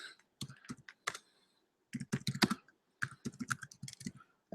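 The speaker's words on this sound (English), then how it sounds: "I'll type it in the thing." Close, crisp typing on a computer keyboard comes in three quick clusters of clicking keystrokes, separated by short silences.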